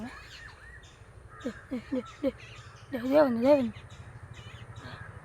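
Crows caw in a short series of harsh calls during a morning outdoors, fairly close and loud, followed by a longer wavering call, with mynas and other birds chirping faintly behind.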